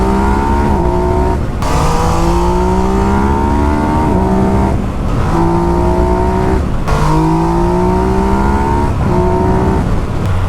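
A Yamaha MT09 SP motorcycle engine runs loud and close on an Italian mountain pass road, revving up through the gears in repeated rising sweeps with brief dips at each shift.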